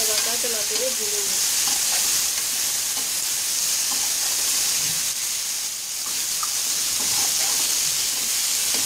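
Black chickpeas being stirred and roasted in a pan make a continuous, even hiss of frying close by, with soft scrapes of the spoon mixed in and no speech.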